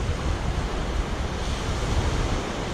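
Ocean surf breaks at New Smyrna Beach at low tide, a steady broadband wash of waves mixed with wind rumble on the microphone, continuous and fairly loud, with no talk.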